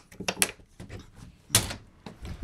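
The entry door of a 2017 Freedom Express 257BHS lightweight bunkhouse travel trailer being opened, producing a quick run of clicks, rattles and a louder latch thump from close by, with no speech.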